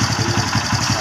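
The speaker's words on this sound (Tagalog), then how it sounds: "Tumutunog yung kanyang tensioner." A three-year-old second-hand Barako motorcycle engine idling with a noisy tensioner, a steady close mechanical chug with a fast ticking rhythm throughout.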